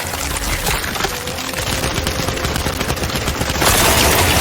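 Dense automatic gunfire bursts continuously from a video game during a tense livestream fight, loud and rapid throughout, with the racket thickening toward the end and no speech over it.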